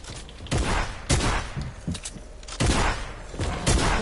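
Video game gunfire rattles in repeated loud volleys, with about six or seven sharp clustered bursts over a few seconds against steady background noise.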